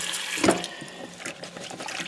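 A tie-dyed t-shirt soaks and is swished around in hot water: close, short liquid sloshing and splashing with one sharper splash near the start, then softer trickling movement.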